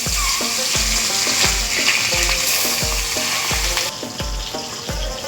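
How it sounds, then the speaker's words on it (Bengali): Fish pieces fry in hot oil in a wok, a loud, continuous close-up sizzle and crackle with a steady rhythmic thump repeating about every half second underneath, and no voices. "এবার আমি দিয়ে দেব এক এক করে মাছগুলো ভেজে নেব।"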